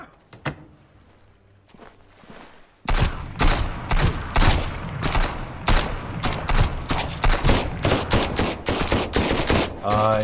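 Bursts of rapid gunfire in the video game Sunkenland, fired from a position above, erupt after a quiet opening with a few isolated shots, then continue loud and dense with clustered volleys and impacts.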